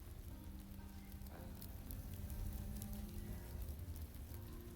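Steady rain falls across a farm in the horror farming game We Harvest Shadows, a continuous dense hiss and patter that lasts throughout, with low sustained tones droning underneath.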